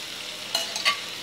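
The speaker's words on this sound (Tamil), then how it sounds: "மசாலாம் போட்டாச்சு, நல்லா வதக்கி விட்டாச்சு" Ground coriander, chili and turmeric masala sautés and gets stirred in a pan for a paaya kuzhambu, giving a steady soft sizzle with a couple of brief scraping stirs, and no talk.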